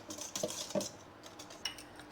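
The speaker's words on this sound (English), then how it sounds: "It's just a regular whisk." A regular hand whisk beating a mixture in a bowl until foamy, quick light clicking and tapping strokes at close range, fairly soft and uneven.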